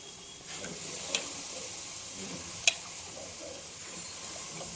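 Quartered mushrooms fry in a pan with turmeric and coriander powder for mushroom biryani, a soft, steady sizzle close by, broken by a couple of faint clinks from stirring, with no talking.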